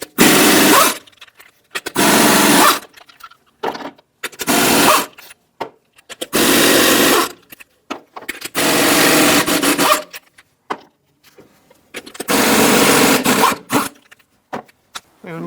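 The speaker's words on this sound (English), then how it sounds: "Using a 21mm socket, we're going to remove our lug nuts." A power socket tool with a 21mm socket spins lug nuts off the front wheel of a Ford Expedition, loud close bursts of whirring and buzzing in several separate runs, with short quiet gaps between them.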